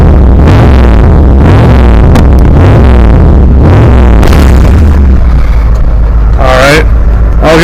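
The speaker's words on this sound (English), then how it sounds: "When it stumbles, that's because I have too much fuel going in the RPMs" A carbureted engine with a Holley carburetor and too much fuel revs up repeatedly and stumbles, loud rising blips that hesitate and sputter over a rough idle, with someone talking briefly near the end.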